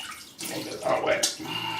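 Tap water runs and splashes steadily onto a synthetic-knot RazoRock 400 24mm black shaving brush, a soft continuous hiss lasting a couple of seconds at close range, with a brief voice underneath.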